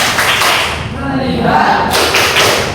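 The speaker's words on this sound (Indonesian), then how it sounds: "kita tepuk fokus dulu" Rhythmic 'tepuk fokus' focus clapping in a classroom, a patterned series of sharp hand claps from a group of students, loud and close, with a voice speaking over it.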